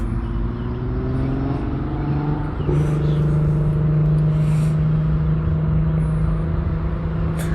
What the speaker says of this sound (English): somebody's got a hot car